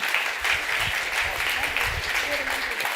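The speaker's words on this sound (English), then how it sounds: "you also deserve another round of applause" Audience at a food sovereignty conference in Rotterdam applauds people invited onto the stage, a steady wash of clapping from a crowd filling the room, moderately loud and continuous with some voices mixed in.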